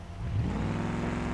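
An off-road vehicle engine in BeamNG Drive revs and strains at a steady, droning pitch while struggling for traction on rough terrain, close and continuous, with no talking.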